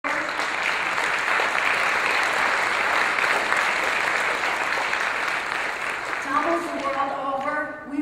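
Sustained crowd applause at a rally, loud and dense throughout, thinning slightly near the end as a musical tone or chant begins to emerge.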